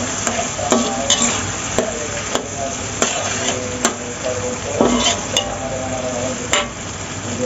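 Kuetiaw noodles being stir-fried with tofu and fried egg in a hot pan, with a steady sizzle under repeated scraping and clanking of a spatula against the metal, loud and close.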